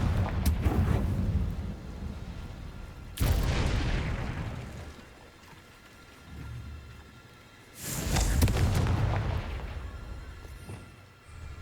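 Deep booming blasts from the Confringo explosion spell in the wizarding game Hogwarts Legacy, three heavy bursts several seconds apart, each with a rumbling decay.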